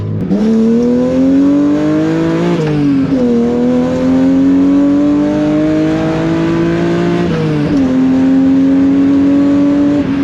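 A loud, tuned BMW E36 316i with an engine swap and M3 intake roars as it accelerates hard through the gears, its pitch rising steadily, then dropping briefly at each shift.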